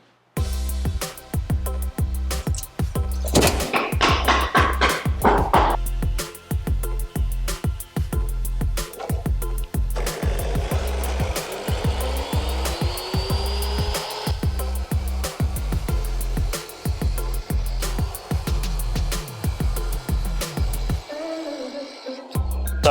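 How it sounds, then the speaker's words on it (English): Steel axle tube for a lawnmower being cut to length, a continuous harsh grinding cut with rapid repetitive clicks and a shifting whine, loud and close, stopping briefly near the end, with no talk. "then I'm going to cut this tube to length"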